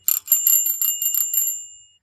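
A small bell freshly mounted on a bicycle's handlebars rings in a quick run of about eight bright, close dings, then fades out with a short ringing tail.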